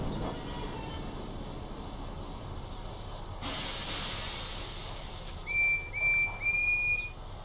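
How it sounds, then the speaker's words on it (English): A train whistle sounds in the Thomas and Friends: Wonders of Sodor video game, three short shrill toots near the end over a steady hiss of steam and background game noise. "whistle going off then"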